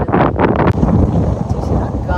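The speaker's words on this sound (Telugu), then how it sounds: "చూసినా గాలి సప్పుడు ఎట్లొస్తుంది" Strong wind gusting outdoors at a park in Frisco, Dallas, roaring into the microphone in a loud, continuous rumble that a voice talks over.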